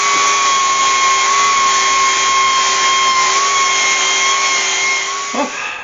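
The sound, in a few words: bandsaw cutting top off oak scoop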